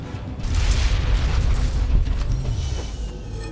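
A booming explosion from small bombs in the Ultimate Spider-Man video game, a loud rumbling blast that swells and lingers with a low roar for a few seconds.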